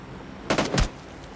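A short burst of PUBG gunfire: two or three loud, close shots in quick succession over a steady background hum, with no one talking.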